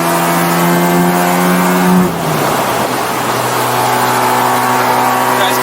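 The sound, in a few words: Mazda car engine cruising uphill at speed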